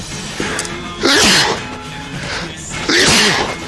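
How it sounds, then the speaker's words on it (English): Two loud, abrupt bursts of a sneeze about two seconds apart, close by, with faint background chatter in between. "Oh, I'm gonna sneeze."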